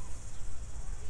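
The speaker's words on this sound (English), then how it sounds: "Cicadas tweeting, chirping?" Steady high insect chirring from cicadas fills a small green city park with flowers and a fountain, a faint continuous buzz over low background hum.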